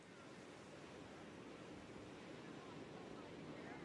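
Big swell surf crashes in a steady, dense roar of breaking ocean waves, broadband and continuous with no pauses, close and loud throughout.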